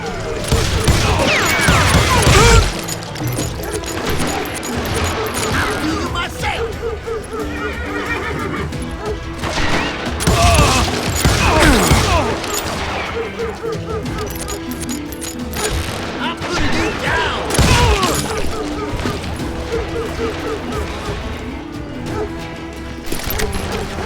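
Scattered gunfire in the western shooter Call of Juarez: Gunslinger, with sharp shots breaking through a dense, loud mix of game music, horse whinnies and shouting voices.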